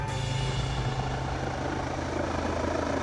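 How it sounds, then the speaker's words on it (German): A rescue helicopter lands at the helipad of the Aachen university hospital, its engine and rotor roaring as a steady, loud drone with a low throb that stays unchanged throughout. "Der hier landet auf dem Hubschrauberlandeplatz der Uniklinik in Aachen."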